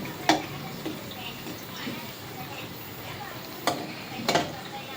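Bonda frying in hot oil, a soft continuous sizzle with a few sharp clinks and scrapes of a utensil against the pan, close by and fairly quiet.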